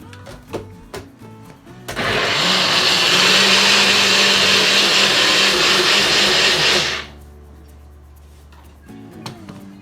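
Loud, steady whirring of a blender grinding a chili paste of dried long chili and Thai chili. It starts abruptly after a quiet moment, runs for about five seconds, and then cuts off.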